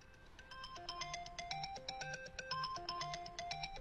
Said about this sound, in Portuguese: O telefone está tocando porque está aberto